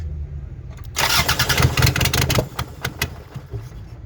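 A 2005 Toyota RAV4 with a hard-starting, smoking fault cranks briefly and catches into a loud, uneven running engine, with rough sputtering pulses that settle toward a lumpy idle.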